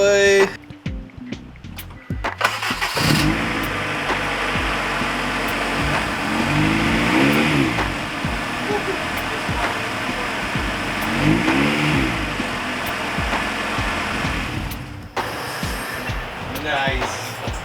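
A Honda B20-engined AWD Civic Wagon idles, then revs repeatedly inside a closed garage, its loud engine rising and falling in several swells and echoing off the walls, with a voice heard briefly.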